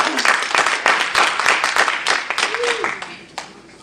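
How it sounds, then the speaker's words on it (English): Audience claps for Miss Tammy K. Murphy at an education spelling event, a lively burst of many hands with voices mixed in, fading toward the end. "Round of applause."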